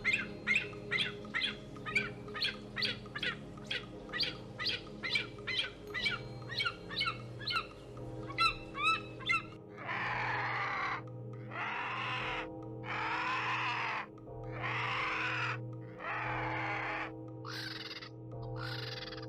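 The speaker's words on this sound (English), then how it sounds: "Then came the vultures." Vultures calling in a rapid series of harsh, croaking caws, followed by longer drawn-out raspy squawks, fairly faint over a low steady hum.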